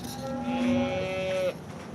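A single cow moos in a long drawn-out call, fairly close, over a low murmur of background noise at the Modnimb livestock market.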